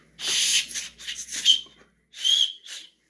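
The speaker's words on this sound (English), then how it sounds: "A little emergency whistle, whatever." Three sharp, shrill blasts from a small emergency whistle on a paracord bracelet, short and close, with brief breathy gaps between them and no talking.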